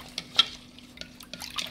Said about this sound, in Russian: Вот я добавила молоко сюда, фарш, и перемешиваю.